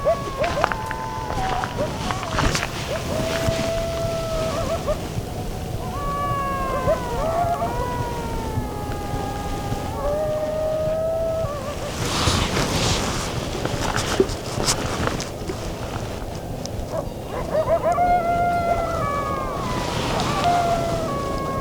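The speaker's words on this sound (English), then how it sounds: "a couple of coyotes somewhere here in the foothills were howling" A couple of coyotes howl somewhere in the Salt Lake City foothills, their wavering, sliding cries overlapping in waves over steady outdoor ambience, moderately distant and sustained.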